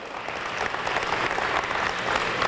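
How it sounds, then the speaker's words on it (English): Audience at a mayor's town hall gives a round of applause, a dense, even wash of many hands clapping at steady loudness throughout, with no speech over it. "Give him a big round of applause."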